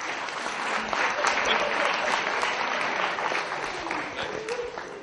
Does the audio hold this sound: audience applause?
yes